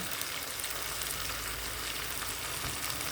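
Tomatoes fry in a pan for a small-onion sambar, giving a continuous close sizzle with fine crackling that holds steady for several seconds, with no talk.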